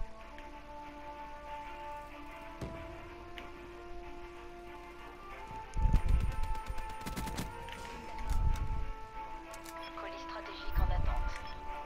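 Scattered bursts of gunfire in Call of Duty Black Ops 3 thump out in three separate volleys over steady game ambience, with someone talking in French throughout.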